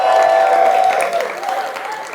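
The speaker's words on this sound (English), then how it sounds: "A round of applause for them." A studio audience at a live eviction show applauds for a couple of seconds, a dense, loud burst of clapping under the host's voice.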